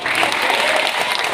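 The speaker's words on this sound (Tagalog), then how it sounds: "Sige, palakpak natin ang Panginoon." Congregation clapping hands together in a church service, a dense, steady wash of applause filling the room without pause for a short stretch.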